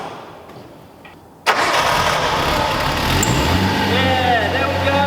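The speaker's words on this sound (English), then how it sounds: "let's give it a first start with the brand new dose pipe and see if she actually likes to idle." A Nissan R32 Skyline fitted with a brand new downpipe starts after near silence with a sudden loud crank and catch, settling into a steady, close rumbling idle.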